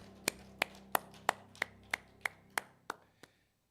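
A church congregation at a Sunday service at Miryang Methodist Church claps in unison, about ten sharp, evenly spaced claps that slow slightly and then stop, with no talking over them.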